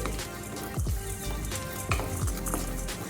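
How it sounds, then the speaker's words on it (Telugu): Cinnamon, cloves, cardamom and sesame seeds fry gently in a pan on a low flame for stuffed brinjal curry, a soft steady sizzle broken by a few light scrapes and taps of a stirring spoon, with no voices. "ఇప్పుడు వీటిని ఫ్లేమ్ సిమ్లో పెట్టేసుకొని మంచి కలర్ వచ్చేంత వరకు ఫ్రై చేసుకోవాలి"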